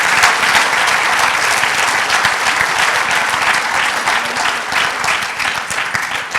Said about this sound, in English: I want you to give one more intro applause to one of the 326 greatest players ever, Mr. Charles Haley.